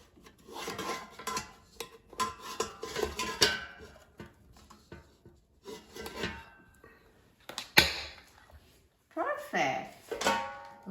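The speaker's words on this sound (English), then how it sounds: "let's take the pan out of the air fryer" A pan holding a banana egg pancake is pulled out of an air fryer, with irregular scraping, rubbing and clattering bursts of metal, and a short louder clack partway through.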